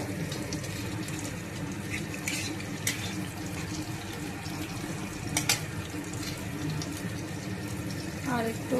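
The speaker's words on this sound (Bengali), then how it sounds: "আমি এখন এটাতে জল দিয়ে দেব" Water pours into a pan of spiced curry masala cooked until the oil separates, giving a steady hissing, bubbling wash that runs throughout, with a few brief clinks and a sharper burst near the end.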